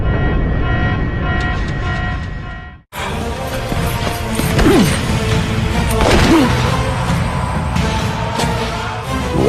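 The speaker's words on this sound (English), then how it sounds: "she drops an explosive spell into the engine, and it explodes in a massive blast of satisfaction" A massive explosion in a God of War II boss battle: after a brief drop to silence, a loud, dense blast erupts and rolls on with crashing debris and thuds over the game's background sound.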